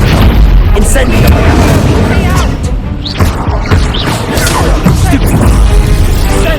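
An Incendio fire spell bursts in Hogwarts Legacy, a loud, dense booming blast that roars continuously with crackling bursts, with a voice calling out over it.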